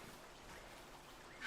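A duck quacks in ARK Survival Ascended played on PS5, a faint game sound under low background ambience. A slightly louder call comes at the very end.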